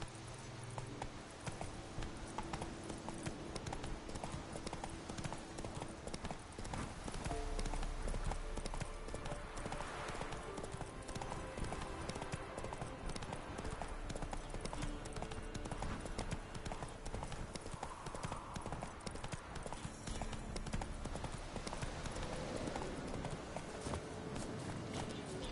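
A horse gallops in The Witcher 3, its rapid, steady hoofbeats clip-clopping continuously at close range over game ambience, with a brief whinny partway through.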